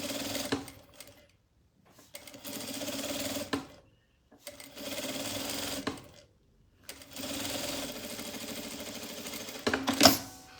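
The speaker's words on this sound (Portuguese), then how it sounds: "Eu sempre venho e faço essa costura aqui." A sewing machine stitches a seam close to the fabric's base edge, running in three steady whirring bursts split by short pauses, close and clear, with a small click near the end.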